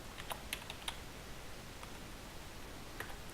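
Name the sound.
typing on a computer keyboard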